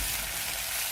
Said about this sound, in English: So I'm going to fry this onion until it is translucent,